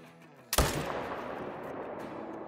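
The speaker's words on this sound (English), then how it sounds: "All right, let's go for a shot." A single sharp rifle shot fired at a grizzly bear in the hunting game Call of the Wild, loud and close, followed by a long fading echo across mountain terrain.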